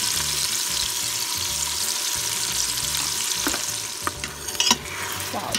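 Green chutney masala stirred in a pot, a continuous loud sizzle of frying with rhythmic scraping strokes of a spoon and a few clinks near the end, close by and without voices.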